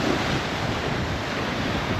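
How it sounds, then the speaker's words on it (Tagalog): Strong wind buffets the microphone in a steady roar, with crashing surf blended into the rushing noise at the shore near the Bangui windmill farm. "Mahangin."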